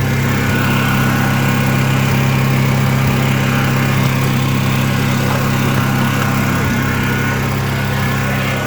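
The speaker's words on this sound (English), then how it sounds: "got my generator charging up the batteries" A steady, loud engine drone runs without a break, the even hum of a small portable generator close by, charging batteries.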